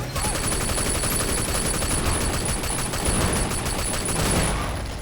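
Rapid gunfire in the Sleeping Dogs video game, a dense continuous fusillade of shots with a constant high electronic tone running over it throughout.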